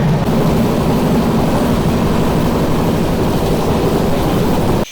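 12342 Agnibina Express train running between Asansol and Raniganj, a steady loud rumble and rattle of the moving carriages that holds constant for nearly five seconds before cutting off abruptly.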